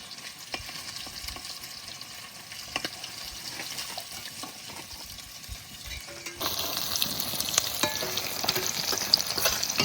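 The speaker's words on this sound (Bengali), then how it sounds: "মাছ হালকা করে ভেজে নিয়েছি, এবার তুলে নেব।" Hilsa fish pieces fry in oil with a soft, continuous sizzle. The frying grows noticeably louder and hissier partway through, with occasional clinks of stirring.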